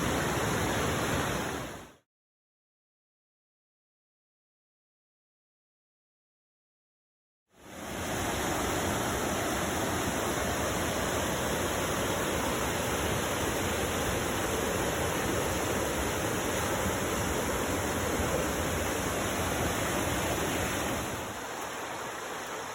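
Steady, close rush of a creek flowing over rocks in a forest at Joyce Kilmer, broadband and unbroken apart from a few seconds of dead silence near the start, with no voices.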